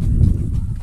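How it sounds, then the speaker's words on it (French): A horse being ridden on a tour of a residential estate in Chile clops along at a walk, its hoofbeats steady and muffled under a heavy low rumble of wind and handling noise. "Là je suis sur un cheval, c'était pas prévu"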